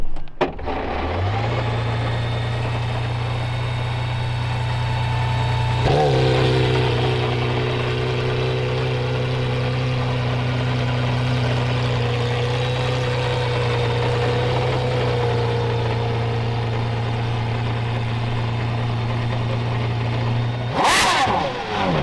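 An Aston Martin Valkyrie hypercar engine, heard up close from behind, settles into a loud steady idle with a deep hum, shifts pitch midway into a sustained higher drone, and ends with a sharp brief rev.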